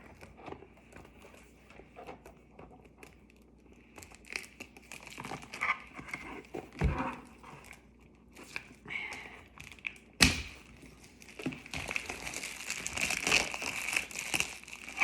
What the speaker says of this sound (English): it's wrapped in this beautiful cellophane plastic. So let's get this puppy opened up